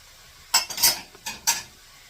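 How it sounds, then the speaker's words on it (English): Steak pieces dropped back into a pan of onion beef fried rice and stirred, giving a few short sharp scraping clatters of utensil against pan in quick succession with no talk. "Now I'm going to put back in the steak"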